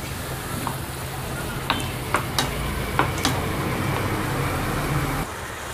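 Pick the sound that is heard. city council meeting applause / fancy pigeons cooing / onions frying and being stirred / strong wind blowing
onions frying and being stirred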